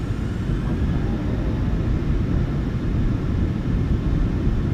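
Boeing 737-900ER engines at takeoff power in the PMDG flight simulator, a steady heavy low rumble with a faint hiss above it, continuous and unchanging, heard without voices.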